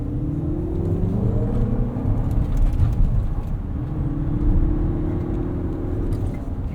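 A 2024 Lexus TX 500h F Sport hybrid accelerates from a stop, its engine tone rising smoothly in pitch under a steady road rumble heard from inside the cabin.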